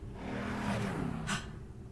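A Dodge Ram SRT-10 pickup with its Viper-like engine drives by, a low, steady rumble at moderate distance with a brief rise in the middle.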